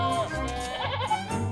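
Sheep and goats bleating in a herd, a short wavering call over a brief stretch, close by, amid a cartoon herding scene in ancient Egypt.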